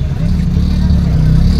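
Shared auto rickshaw riding along a road in Ambarnath East, heard from inside as a close, steady engine drone and road rumble, with someone talking over it.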